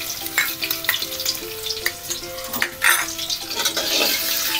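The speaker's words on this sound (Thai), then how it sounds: "แล้วก็ผัดพริกกับกระเทียมลงไปก่อนจ้า" Chili and garlic are stir-fried in a pan for Thai squid with shrimp paste, a close sizzle broken by scraping and clanking stirs of a utensil against the metal, and a faint tonal line runs beneath.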